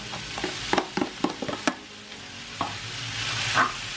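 Quinoa fried rice is stirred in a hot pan, a run of close scraping utensil strokes over steady sizzling frying, with the clatter easing into a softer ongoing sizzle.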